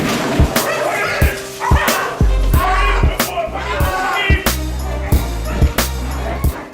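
Several dogs bark aggressively and repeatedly at close range, with sharp thuds and scuffling mixed in among the chaotic barking.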